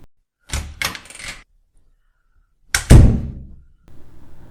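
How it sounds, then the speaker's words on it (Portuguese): A doorknob turns and a door opens: a quick pair of metallic clicks and rattles, a pause, then a heavier latch clunk and thud, followed by faint scraping, with no voices. "Abrindo a porta para o quarto 7."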